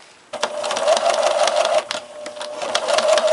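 A sewing machine runs steadily, stitching back over a fur-fabric seam at the tough tail end. The motor drones close and continuous, with a rapid needle chatter throughout.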